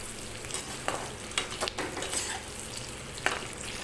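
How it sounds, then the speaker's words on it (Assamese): Capsicum and onions sizzle in a hot pan over a high flame, stirred with repeated sharp scrapes and clacks against the metal. The frying is steady and close, with no voices. "জুইটো হাই ফ্লেমত দি অলপ লৰাই আছোঁ মই"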